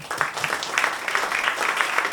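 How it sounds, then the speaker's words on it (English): A live audience at a café show claps in a dense, continuous round of applause. The sound is fairly loud and close, with rapid overlapping hand claps and no voices on top. "Please keep that applause going"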